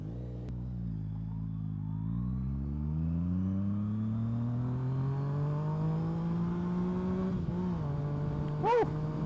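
A new motorcycle accelerates hard, its engine note climbing steadily through one gear before a quick shift breaks the pitch and the revs rise again, loud and close throughout.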